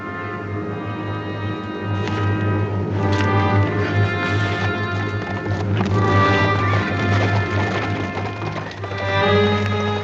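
Horse hooves clip-clop steadily as a posse rides out in a 1959 Western TV episode, under a thick, continuous musical score, the riding sounds partly buried in the music.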